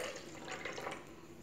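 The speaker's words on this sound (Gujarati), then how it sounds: "હવે આમાં આપણે 1/2 ગ્લાસ પાણી એડ કરીશું" Half a glass of water poured into a thick homemade Ayurvedic juice, a soft continuous trickling and splashing of liquid, faint and close, without any talking.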